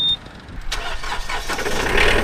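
A Yanmar compact tractor's engine cranks and catches after a sharp click, settling into a rough, rising mechanical run over about two seconds.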